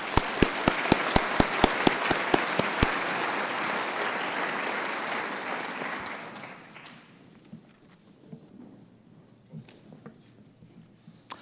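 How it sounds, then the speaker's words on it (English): Audience applause for scholarship recipients at a scholarship reception, a sustained round of dense clapping with a few sharp, regular claps standing out near the start, then tapering off into scattered claps and quiet room noise. "Please give a round of applause to this group."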